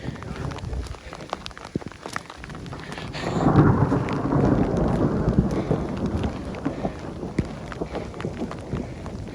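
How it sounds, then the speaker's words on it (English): Thunder rumbles low and heavy through a steady clatter of hail and rain in the Colorado high country, with sharp scattered impacts throughout. "We are getting full-blown hailstorm."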